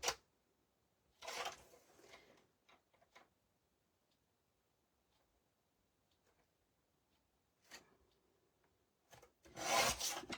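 Paper pages being trimmed for a rose-themed craft project, with short rasping cuts in two bursts separated by a long quiet stretch and a few faint ticks. The cuts are close and moderately loud, and no one talks.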